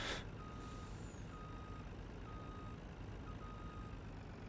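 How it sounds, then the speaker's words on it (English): Reversing beeps from a truck in the Farming Simulator 19 video game, a steady series of evenly spaced electronic beeps, about one per second, over a constant loud engine rumble. "Possibly, if I can back a truck up."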